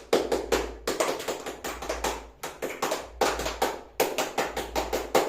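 A primary school class claps the "tepuk semangat" spirit-clap rhythm, several quick bursts of sharp, close hand claps in patterned groups separated by brief pauses.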